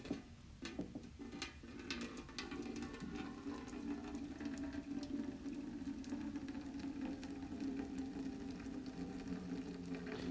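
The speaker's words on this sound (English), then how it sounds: "So I've got my hot water. Let's pour some hot water in." Hot water poured steadily into a cube during a heat transfer experiment, a continuous close rushing pour that lasts the whole stretch with no talk.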